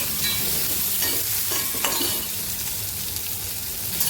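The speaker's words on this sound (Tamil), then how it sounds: "ஒரு பெரிய வெங்காயம் கட் பண்ணி வச்சுருக்கேன், அதை வறுத்துக்கிறேன்" Chopped large onion frying in a small kadai while being stirred, a steady close sizzle with scraping stir strokes throughout and no talking.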